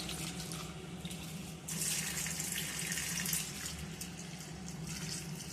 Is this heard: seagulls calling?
no